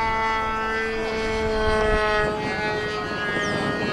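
A modified Tower Trainer radio-controlled plane with flaps makes a full-speed flyby, its propeller engine a loud, steady high-pitched whine that shifts slightly in pitch as it passes close by.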